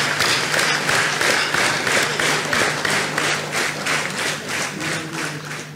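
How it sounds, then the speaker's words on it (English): Large audience applause during a corporate presentation launching Jio broadband, a steady, fairly loud wash of many hands clapping that eases off gradually toward the end. "let us give a big round of applause to ISRO's all-women team of Chandrayaan"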